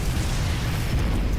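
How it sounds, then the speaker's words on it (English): A loud, dense explosion from the Halo video game fills the whole stretch with heavy low-end rumble and crackling noise, sustained and close, with no speech. "the explosion didn't mess us up"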